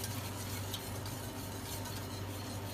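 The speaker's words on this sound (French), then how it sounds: "il ne faut pas hésiter à bien mélanger tout de suite" Steady stirring of a cooking mixture in a pan, with a continuous soft scraping and swishing texture and faint sizzling beneath, close and even throughout with no talking.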